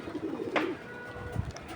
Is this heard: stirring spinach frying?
no